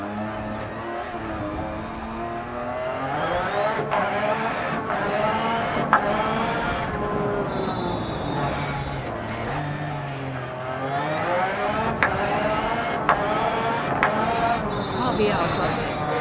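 A rally car engine in the racing game Dirt Rally revs and whines continuously, pitch rising and falling as it strains, even while driving in reverse, with people talking over it.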